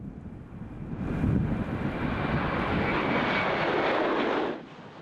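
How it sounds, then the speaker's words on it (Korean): A passenger airplane takes off from a runway at Jeju Airport, its engines building to a loud, sustained roar that holds for several seconds before easing off, with no voices. "우렁찬 엔진음과 함께 비행기가 공항 활주로를 이륙합니다."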